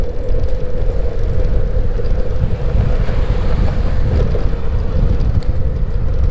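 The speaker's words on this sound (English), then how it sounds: "Strong headwind going this direction to the south, southeast." Strong headwind of about 23 mph roaring across the microphone during a road bike ride, a loud, continuous buffeting rumble with no letup and no talking.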